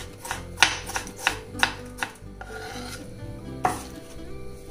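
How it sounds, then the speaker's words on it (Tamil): Tomatoes are cut with a knife for Andhra-style pickle, making a handful of sharp close chops and scrapes at an irregular pace over a low background hum. "என்ன பண்ணலாம், தக்காளியே கட் பண்ணிக்கலாம்."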